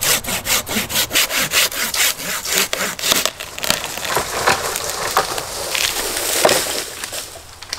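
A Silky handsaw cuts through dead standing oak outdoors, with loud, close, rhythmic push-pull strokes that start steady and regular, then turn rougher and more irregular as the cut deepens.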